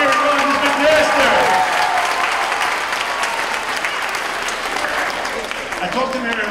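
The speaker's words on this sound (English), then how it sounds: "Let's have a big round of applause, everybody," An audience gives a big round of applause at a fitness center ribbon cutting, sustained loud clapping from a crowd with voices mixed in.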